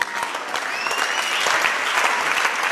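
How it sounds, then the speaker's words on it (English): A church congregation claps at a Sunday service, with dense, lively clapping holding steady and strong throughout, a few high tones drifting over it. "Clap for yourselves."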